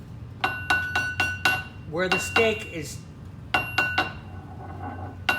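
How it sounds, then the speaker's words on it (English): A hammer strikes a metal stake set through a box, giving sharp metallic clinks in a quick uneven series, a pause while someone speaks briefly, then more ringing blows. "So I'm hammering where the stake has surface"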